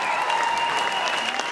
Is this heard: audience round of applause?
yes